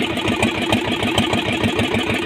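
Fishing boat engine running, loud and close: a steady, rhythmic chugging throb with no talk.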